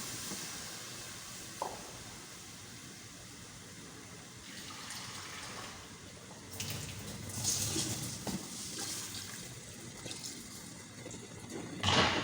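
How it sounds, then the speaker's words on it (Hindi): Four cups of water are poured into a pot of mutton and turai curry in a few separate gushing splashes, with faint cooking noise in between and no speech. "4 कप पानी।"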